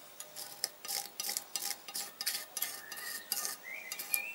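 Old silicone sealant being scraped off the top of a Kawasaki ER-5/EX500 engine cylinder during a shop teardown. The scraping comes as a run of repeated short, rasping strokes in an irregular rhythm, close and moderately loud, with no talking.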